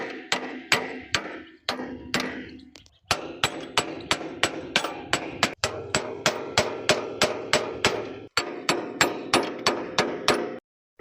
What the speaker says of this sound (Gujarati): આપણે ગાઈસ હથિયાર આપણું લઈ લીધું છે અને પીનું ઠપકારી લઈએ